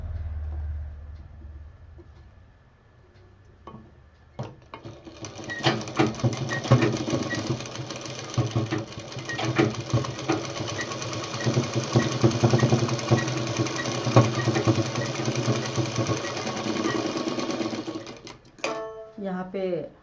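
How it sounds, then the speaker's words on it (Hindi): A sewing machine stitches a fabric cover, with elastic at one edge. After a quiet start it runs in a steady, dense mechanical whir for most of the stretch, then stops abruptly near the end. Faint voice sounds may sit underneath. "अब हमें इसे पलट के बराबर से सिल देना है।"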